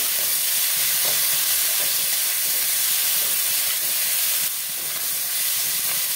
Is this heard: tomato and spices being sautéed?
yes